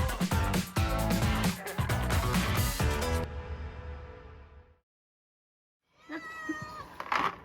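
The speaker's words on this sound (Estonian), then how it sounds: "Siin see kass hakkas veel rohkem mjaugu" A cat meows in drawn-out, insistent calls up close, followed by a brief silence and then another short meow.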